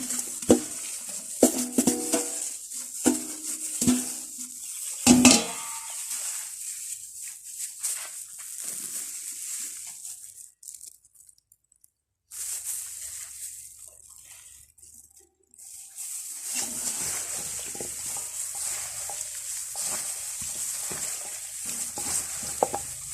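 A spicy beef-tendon salad with green onion and cabbage is mixed in a bowl, giving irregular scraping, clinking and stirring sounds with a quieter pause midway before the tossing resumes.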